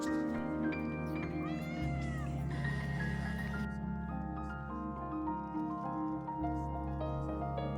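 A cat meowing from the giant 3D billboard in Shinjuku, Tokyo, heard as several stretched, loud meows over a dense, steady hum of city crowds and street noise, with no talking.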